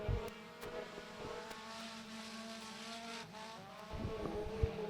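Four-cylinder race cars drone around the oval at Mountain Motor Speedway as the field rolls toward the green flag, a steady engine hum at middle distance with a louder pass near the end.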